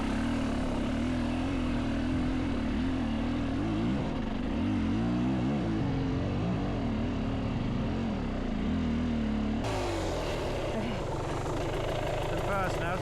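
A dirt bike engine holds a steady, loud drone on the throttle while crawling uphill in Monchique, then shifts to a harsher, rougher note near the end, with a rider's voice talking over it.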